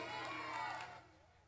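An audience at a live contest event in Costa Azul claps and cheers in a brief, faint, crowded swell of mixed voices that fades out partway through.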